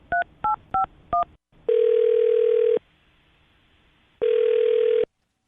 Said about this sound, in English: I'm going to dial his phone number right now, Allison, see if we can get him on the phone